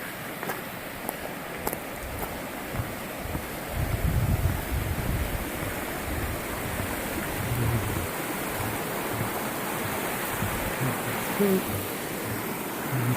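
Creek water flowing steadily outdoors along the Appalachian Trail, a continuous soft rushing wash with wind buffeting the microphone and a few brief low thumps, fairly faint, no talking.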